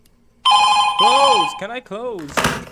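An in-game telephone rings in FNAF 2 Reimagined on Roblox, a steady electronic trill lasting about a second, then a voice speaks over and after it.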